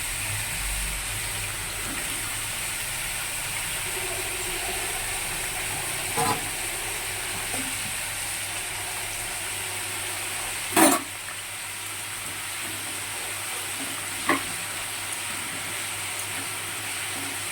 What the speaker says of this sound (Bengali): আরেকটা কড়াতে তেল দেওয়া হয়ে গেছে। আলুগুলো ভেজে নিচ্ছি।